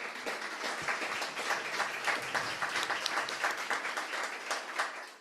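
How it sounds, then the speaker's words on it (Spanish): A church congregation claps together in praise during a Spanish-language sermon, a continuous, fairly soft wash of many hands sustained throughout with no voices on top. "Denle un aplauso al Señor"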